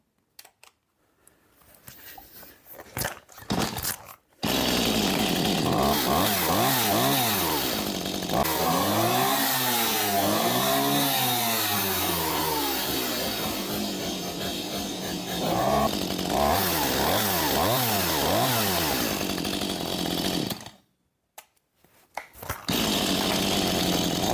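A Stihl chainsaw, just back from repair, is pulled a few times, then fires up and runs loud and close for about fifteen seconds with revving rises and falls before cutting off, followed by a brief restart.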